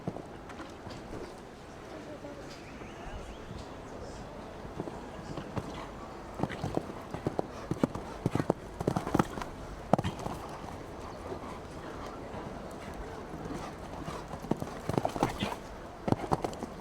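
Distant show-jumping horse hooves drumming on turf amid crowd noise at the Longines Global Champions Tour in Cannes, growing louder and more rhythmic in the second half with sporadic sharp thuds.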